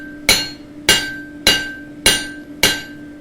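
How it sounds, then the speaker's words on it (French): An art blacksmith's hammer rebounding on an anvil, five sharp ringing strikes in an even rhythm about half a second apart, each with a brief metallic decay, no talking. "j'envoie le marteau"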